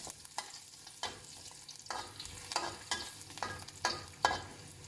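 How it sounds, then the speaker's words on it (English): Garlic sizzles in a frying pan while a utensil stirs it, giving about eight distinct scraping strokes over a soft, steady, fairly quiet hiss. "So now all the garlic is in the pan."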